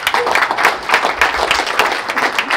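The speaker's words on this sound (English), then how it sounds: "So maybe a big round of applause to them." Audience applause at a Berlin tech meetup, loud close clapping from a modest crowd, individual hand claps distinct within a lively, uneven rhythm.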